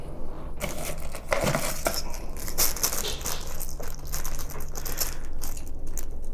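Hard plastic mounting parts and a metal bracket for an Antec A40 Pro CPU cooler rattle and crinkle as they are handled close up, with dense clicking and scraping and no talking.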